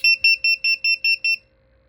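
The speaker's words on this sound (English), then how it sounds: "So it should beep and blink 9 times." A Bluetooth-controlled servo project emits a series of seven sharp, evenly spaced electronic double-tone beeps, close and clear over a faint steady hum, then falls quiet.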